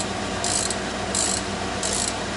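Metal tap cutting threads into a hole for a bolt holding an auxiliary sprocket, heard as three evenly spaced bursts of high, scraping ratchet-like grinding over a steady mechanical background.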